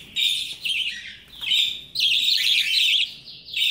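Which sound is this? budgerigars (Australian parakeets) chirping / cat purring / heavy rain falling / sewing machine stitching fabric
budgerigars (Australian parakeets) chirping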